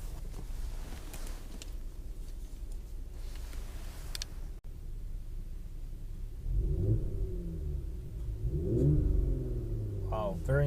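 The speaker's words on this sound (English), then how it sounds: "Very good note of the engine as well." A 2018 Audi S5 coupe engine rises from a low steady rumble into a louder rev, its pitch climbing and falling in two swells near the end, with no talk.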